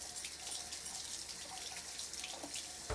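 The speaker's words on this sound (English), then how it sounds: "Let's rinse this fork off." A fork is rinsed under a steadily running kitchen tap, the water hissing continuously close by with no talking.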